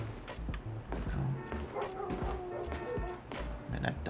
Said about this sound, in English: Man, that dog's annoying.